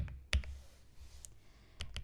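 Computer keyboard keys tapped for a shortcut, a few quiet, sharp clicks spaced irregularly against a faint low background.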